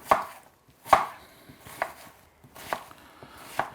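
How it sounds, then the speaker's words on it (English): An onion being chopped coarsely with a knife on a board, five distinct sharp chops spaced roughly a second apart, close and clear with no talking. "you don't want to chop your onion too fine"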